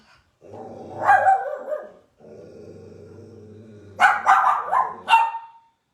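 A puppy barks and growls in several bursts close by, with a low rumbling growl between the sharper yips during an indoor yoga session.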